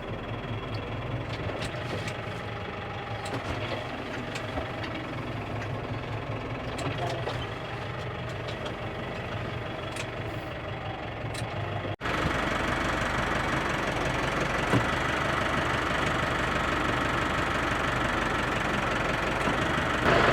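A tractor engine runs with the hay mower engaged for mowing the first grass, a steady knocking diesel drone with a sudden jump to a louder, denser roar midway as the mower starts, continuing evenly near the listener.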